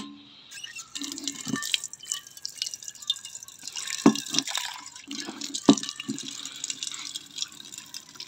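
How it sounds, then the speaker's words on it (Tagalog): Water is fetched and poured for making coffee, with splashing pours and dripping in short bursts, a couple of sharp knocks from handling containers, and quiet gaps between. "Kuha ng tubig mga idol."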